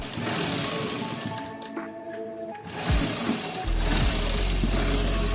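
A sewing machine stitches the hem of a shirt (kameez) with a close, busy mechanical whir and clatter. It is joined by a heavier low hum and knocks in its second half.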